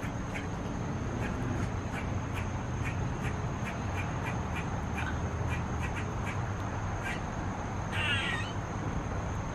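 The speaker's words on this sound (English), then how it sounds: "Sounds like chickens." Repeated short bird calls come from bushes, a clucking, chicken-like chatter that sounds close and fairly loud over a steady background hiss.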